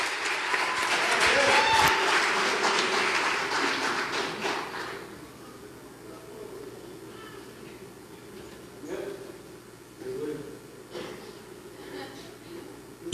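Congregation applauding during a church sermon, a dense burst of clapping that swells loud for several seconds and then fades, leaving scattered faint claps and room noise.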